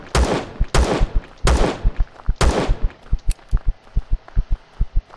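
A gun fires in the Empyrion Galactic Survival game: four loud, evenly spaced shots, then a quick run of quieter rhythmic thuds.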